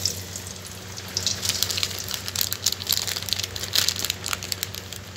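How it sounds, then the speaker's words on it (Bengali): Dried red chili tempering in hot oil in a wok crackles and sizzles steadily at close range, with sharp popping spurts scattered through the frying. "এবার কড়ার মধ্যে যে তেল আছে এর মধ্যে আমি ফোড়ন দিয়ে দিই। ফোড়নেতে দিয়ে দিচ্ছি একটা শুকনো লঙ্কা"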